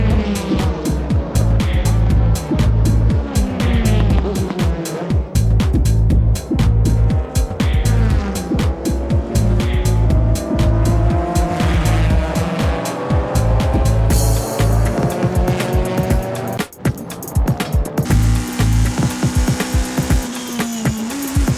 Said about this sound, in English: here comes the two Supras racing to take the lead at the first corner